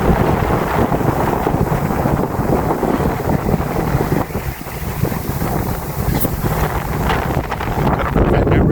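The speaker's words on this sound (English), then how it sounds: "Fresh breeze of about 14 knots, and we're set up on a nice downwind" Constant wind buffeting and rushing water around a sailboat at sea, a 14-knot fresh breeze on a downwind course while motor sailing, a loud steady roar with no voices.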